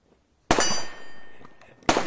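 Two sharp, close gunshots from a borrowed gun crack out about a second and a half apart, each a loud burst followed by a ringing, slowly fading tail.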